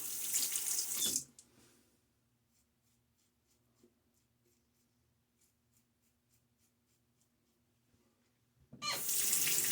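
Tap water gushes loudly into a sink for rinsing during a shave, starting abruptly at the end after a quiet stretch of faint scraping and a low hum, with an earlier burst of running water at the start.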